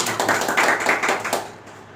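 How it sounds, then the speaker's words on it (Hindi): Audience applause at a live agricultural product demonstration, a dense crowd clapping steadily for about a second and a half before tapering off near the end, with no talking over it. "मैं चाहूँगा कि आप जोरदार ताली बजा दें हमारे इस एग्रीकल्चर प्रोडक्ट के लिए"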